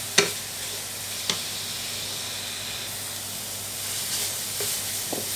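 Spice paste is sautéed in a pan, giving a steady close sizzling hiss broken by a few sharp taps of a utensil against the pan, with no voices.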